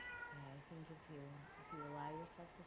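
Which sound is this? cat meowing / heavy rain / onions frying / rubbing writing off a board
cat meowing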